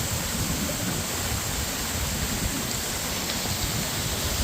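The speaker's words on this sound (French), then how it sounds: "On est carrément au pied de la cascade." Waterfall in full flow at Creissels after a flood and freeze, heard from its base as a loud, steady, dense roar of falling water with no let-up.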